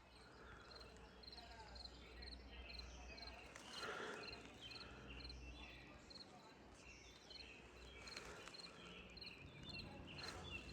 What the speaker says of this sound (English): But my grandma has the Springfield crickets though.